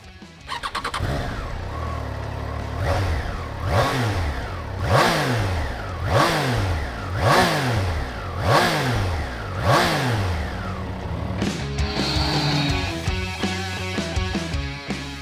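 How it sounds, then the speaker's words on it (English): A 2021 Triumph Trident 660 three-cylinder motorcycle engine starts and revs repeatedly, each blip rising sharply then falling back, loud and close, settling into a rough idle at the end. "even on the move, the triple sounds just as enticing as you expect it to be"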